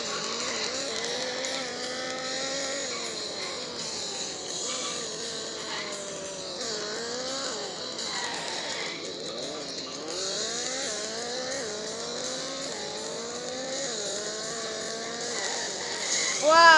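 Engine revs rise and fall continuously through a driving video game as the car drifts, with sliding tire noise and occasional bumps, all fairly quiet and steady, with a light voice now and then in the background.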